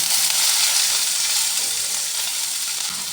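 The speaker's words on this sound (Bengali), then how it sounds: "এরপরে আমি পেঁয়াজ দিয়ে দেব," Onions hit hot oil with black cumin seeds and fry in a loud, bright, continuous sizzle close by, easing off slightly over a few seconds.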